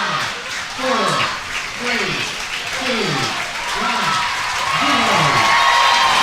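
Home stadium crowd at a Virginia versus Tennessee college game applauding and cheering loudly and steadily, with whoops and a commentator's voice running over the dense clapping throughout.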